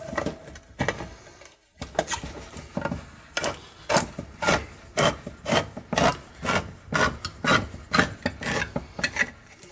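A can opener cranks around cans of gravy in a steady run of rasping metal bites, about two per second, close and fairly loud after a brief pause.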